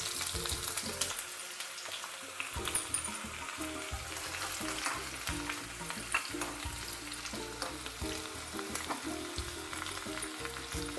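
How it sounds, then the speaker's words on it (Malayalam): Chopped shallots sizzle and crackle steadily in hot oil with popped mustard seeds, stirred now and then, for a Kerala-style mango pachadi. The frying sounds close and even, with no talking. "ചുവന്നുള്ളി ഒന്ന് മൂത്ത് വരട്ടെ."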